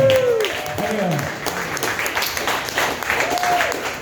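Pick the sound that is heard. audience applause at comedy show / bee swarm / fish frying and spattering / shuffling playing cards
audience applause at comedy show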